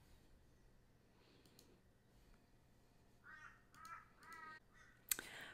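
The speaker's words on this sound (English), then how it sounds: "I must apologise for the crows in the background." Several crows caw outdoors in the background, a run of rough harsh calls in the latter half followed by a sharp click, faint and distant over a quiet room hum.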